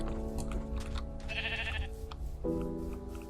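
Sheep bleating in the video game Minecraft: a single clear, wavering bleat in the middle, set against steady game music and background tones.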